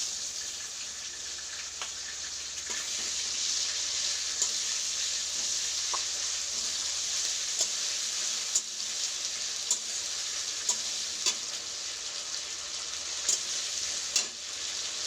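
Tomato frying in oil in a pan with green chilli added, a steady loud sizzle with scattered spatter pops and stirring throughout, no talk.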